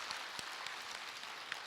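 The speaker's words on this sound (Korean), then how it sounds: "박수로 맞으세요." An audience at a Buddhist dharma talk claps to welcome a monk, a faint, dense patter of many hands with a few sharper claps, heard from some distance.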